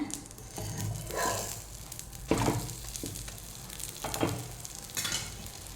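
Egg and chapati fry in a pan for an egg roll, with a steady soft sizzle and occasional scraping and stirring clatter close by.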